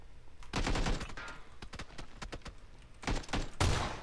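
Rapid, loud shotgun blasts in a first-person shooter game, several sharp bursts in quick succession close by with a heavier final blast.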